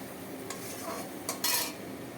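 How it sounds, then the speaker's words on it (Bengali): A spatula scrapes and stirs a tomato and ground spice paste in a pan, a few quick close scrapes over a soft, steady sizzle. "দিয়ে মশলাটাকে কষিয়ে নেবো ভালো"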